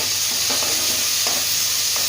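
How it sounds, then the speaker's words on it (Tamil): Shallots sauté in a hot pan with a steady broadband sizzle, while a spoon or spatula stirs them in a few soft scraping strokes. No one speaks. "இப்போ நல்லா வணக்கி விட்டுக்கோங்க."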